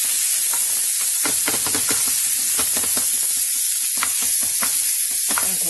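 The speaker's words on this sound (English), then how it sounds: "I'm adding in the mushrooms to the mix. I'm going to mix them up" Mushrooms stirred into a sizzling Christmas morning breakfast bake mixture, with a loud continuous fry hiss and repeated scraping strokes of the spoon spaced through the pan, and no one talking.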